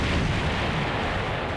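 Dense, continuous rumble of explosions and artillery fire from the real-time strategy game Command & Conquer Red Alert Remastered, loud and unbroken throughout with no voices.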